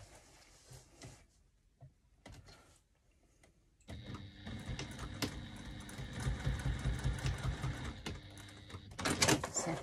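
A sewing machine stitches a bag gusset, starting after a few quiet seconds with small handling clicks, then running in a continuous close, rattling mechanical whir that grows louder toward the end.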